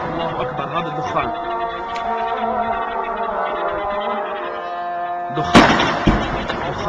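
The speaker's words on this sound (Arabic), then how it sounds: "قصف في الدبابات" Tank shelling in Talbiseh, Homs: one heavy, close blast bursts out late, after several seconds of voices and background din, and is followed by a short rumbling tail.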